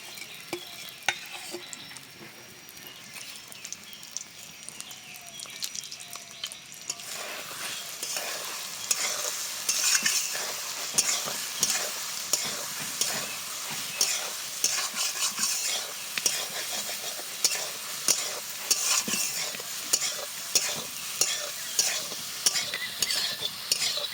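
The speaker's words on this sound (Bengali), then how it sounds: "আলু ভাজা তেলের ওপরে দিয়ে দিচ্ছি সয়াবিন। এটাকেও খুব ভালো করে আগে ভেজে নেব।" Soybean chunks frying in oil left over from frying potatoes, with a steady close sizzle and repeated scraping stir strokes in a regular rhythm that grow louder after the first few seconds.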